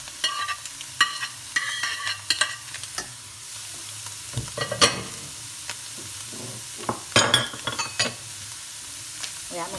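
Meat sizzles and fries in a pan for Chinese fried rice (chaufa) while a spatula stirs it, a steady soft frying hiss broken by irregular scraping and clattering strokes, fairly close and quiet, with no talk.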